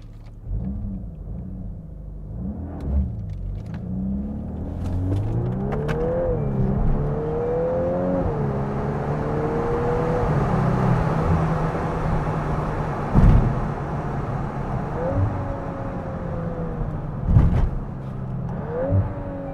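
A VW Golf 8 R accelerating gently, its engine note climbing and shifting through several rising sweeps over a steady close rumble, with a couple of sharp pops near the end.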